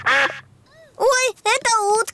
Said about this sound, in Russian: Ой, это утки.